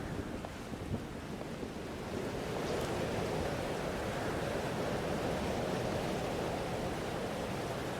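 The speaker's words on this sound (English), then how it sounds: "Weather's worse than I remember it. Storm followed me." Stormy weather in the Life is Strange: Double Exposure video game: a steady roar of wind and rushing surf-like noise that swells slightly after the first couple of seconds and then holds constant, with no voices.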